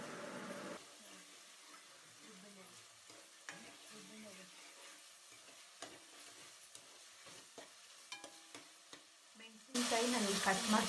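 Whole green chillies dropped into a hot pan sizzle and crackle for mutton biryani, with intermittent stirring scrapes and a louder burst of frying near the end.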